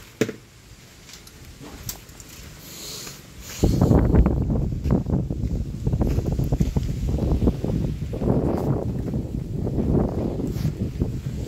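Strong wind roaring and buffeting the microphone, a low rumble that swells suddenly and keeps gusting unevenly with faint water and boat noise.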